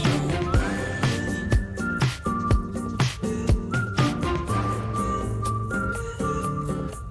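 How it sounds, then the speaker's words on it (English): Relaxed, melodic whistling carries the tune in a K-pop music video, sliding between sustained notes over a backing track with drums and bass, clear and prominent in the mix. "strange juxtaposition between this very relaxed whistling with the visuals that you're getting here"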